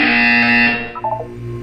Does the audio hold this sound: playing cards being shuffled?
no